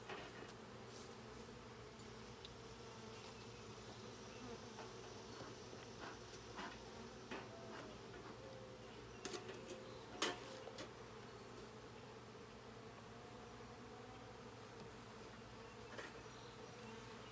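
Honey bees buzzing around an open hive while the box is closed up, a faint steady drone with scattered nearby clicks and knocks from handling, and no talk.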